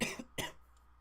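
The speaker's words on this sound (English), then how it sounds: "Sorry if I cough or try to clear my throat" Two short harsh coughs, close and fairly loud, about a third of a second apart, followed by quiet.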